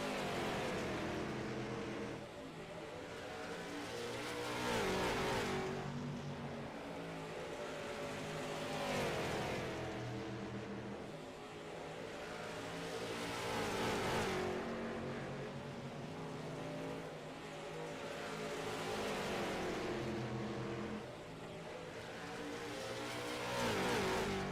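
Race car engines in the iRacing simulator, a loud continuous roar of several cars that swells and fades in repeating waves as they accelerate and pass, heard alone without talk.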